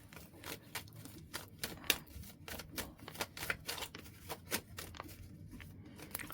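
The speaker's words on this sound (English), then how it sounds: "And you guys saw me shuffling." Tarot cards are shuffled in a quick, faint, close-up run of crisp riffling taps and papery flicks, repeating irregularly over several seconds with no voices.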